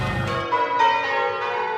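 Church bells in Hoddesdon ring loudly and near, each strike blooming into a sustained metallic hum with overlapping tones that linger and decay.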